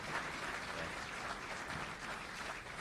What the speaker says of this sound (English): How about another round of applause for Mike and Mitch?